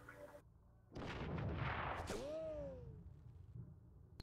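A few loud gunshots from the multiplayer war game Heroes & Generals, with a sharp crack followed by a falling whistle-like tone and quieter trailing reports, alone with no talk.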